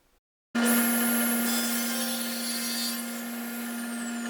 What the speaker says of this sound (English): Use a table saw to cut clean edges on all 4 sides.